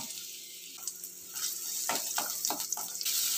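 Onion frying in oil in a pan, a quiet steady sizzle with a few soft clattering stirs and scrapes of a utensil toward the end.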